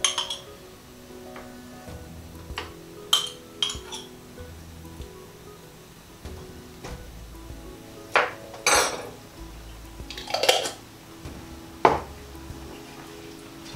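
A utensil stirs tomato puree through a vegan aubergine masala sauce in a pan, giving intermittent light clinks and scrapes against the metal, with sharper knocks now and then and no voices.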